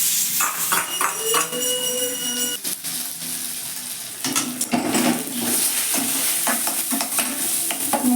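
Moong dal kachori filling is stirred in a hot pan, with a spoon scraping steadily across the metal over a constant sizzle, close and fairly loud, without talk.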